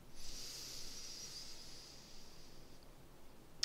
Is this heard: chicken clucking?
no